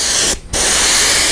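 An airbrush sprays white paint onto a perch-pattern fishing bait: a loud, close, steady hiss that cuts out briefly near the start and then resumes without a break.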